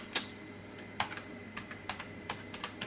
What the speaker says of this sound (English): So if I type in report